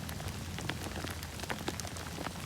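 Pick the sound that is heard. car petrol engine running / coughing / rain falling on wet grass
rain falling on wet grass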